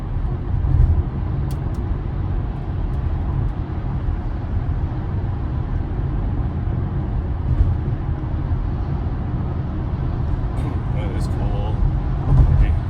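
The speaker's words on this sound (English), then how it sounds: "We're just cruising along the interstate here." A Tesla cruises on a busy interstate in morning traffic, its steady road and tire roar filling the cabin for the whole stretch while someone talks throughout.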